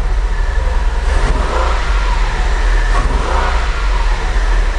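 A Porsche 911 Carrera flat-six engine running close by with a misfire, a steady loud idle rumble with faint periodic irregular pulses and no voices.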